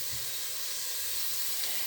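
Chopped onions frying in a pan for a cottage pie give a steady, soft sizzle and hiss, close by and continuous, with no talking over it.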